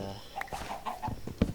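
Chickens in the video game Minecraft cluck in a pen, giving several short, fairly close clucks spaced irregularly across the moment with no talking.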